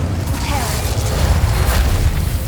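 The Incendio fire spell being cast in Hogwarts Legacy, a dense, roaring whoosh of flame with deep rumbling boom that fills the whole moment at steady loudness.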